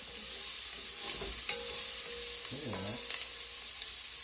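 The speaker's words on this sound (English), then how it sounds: "So we're going to throw our onion in there and let it kind of saute up." Onion sautéing in rendered bacon fat gives a steady, close sizzling hiss, with a brief soft clatter of stirring partway through.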